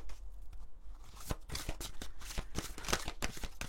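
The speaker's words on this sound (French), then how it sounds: "On va juste tirer quelques cartes." Oracle energy cards being shuffled and drawn by hand, a run of soft papery riffles and slaps repeating close to the microphone, with no talking over them.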